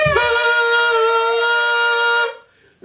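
Early single-reed double clarinet, two pipes joined with reeds cut into the wood, holding one bright, buzzy sustained drone note for about two seconds before stopping, close and loud, played alone.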